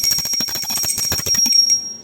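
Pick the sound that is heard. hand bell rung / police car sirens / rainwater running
hand bell rung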